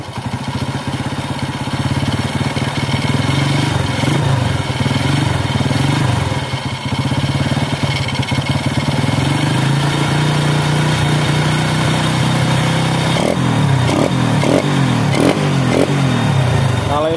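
A four-stroke or two-stroke motorcycle engine idles steadily and loudly up close after a carburetor air-screw adjustment, then is revved in several short bursts near the end.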